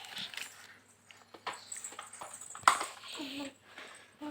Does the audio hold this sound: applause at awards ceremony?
no